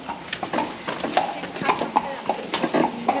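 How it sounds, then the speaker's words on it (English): Steady clip-clop of a carriage horse's hooves on pavement in Mdina, Malta, a regular close rhythm with a faint murmur of voices and street noise behind. "I don't want the horse and carriage to hit me"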